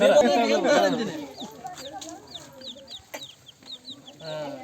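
Voices talk loudly at first, then a series of short repeated clucks from chickens follows nearby, scattered across the rest of the clip.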